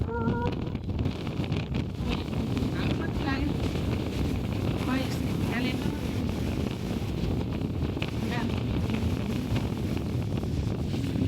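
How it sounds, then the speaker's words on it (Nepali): Strong winter wind at Ben Lomond, Tasmania, buffets the microphone in a constant low roar, with a few faint voices barely audible beneath it. "यस्तो हावा"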